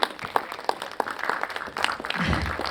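Applause from a conference audience at a solar energy leadership session, a short burst of scattered clapping that builds toward the end, moderately loud with room ambience.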